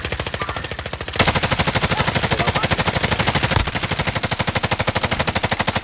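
Automatic gunfire in a multiplayer shooter video game: loud, rapid, evenly spaced machine-gun bursts that run nearly without pause, with a heavier shot or impact punctuating the stream partway through.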